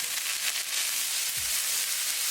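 Mushrooms sauté in a skillet with a steady, dense sizzle and frying crackle throughout, with one brief low scrape of stirring partway through.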